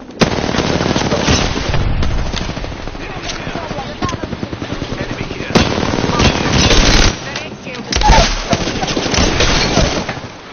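Automatic weapon fire in a hectic Apex Legends firefight, dense bursts running almost continuously with sharper louder volleys near the end, mixed with other game effects.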